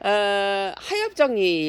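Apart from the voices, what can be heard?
No everyday noise stands out behind the speech.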